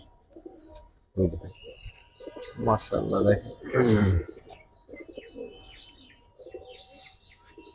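Giribaz silver pigeon cooing in a series of low, throaty coos at close range, with chirps from other birds around it and someone talking over the calls.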